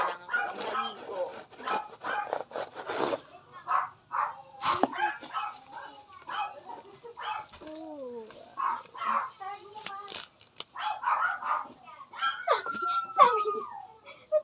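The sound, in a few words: dog barking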